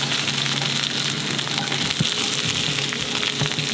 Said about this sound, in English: So then go in the red onions, chilies, curry leaves